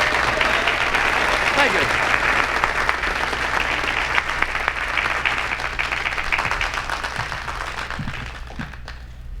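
Sustained audience applause at a live comedy show in Las Vegas, a dense, loud wash of clapping filling the room, easing slightly toward the end as a voice speaks briefly over it.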